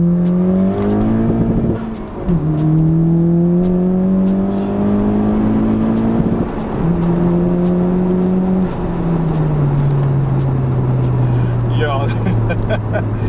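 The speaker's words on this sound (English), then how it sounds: "We're gonna do a bit of a second gear." A 10th-generation Honda Civic Si with an upgraded turbo and full bolt-ons pulls hard in second gear on a winding road, its engine note climbing loudly and steadily from close by through several rising sweeps, with turbo whoosh and someone speaking over it.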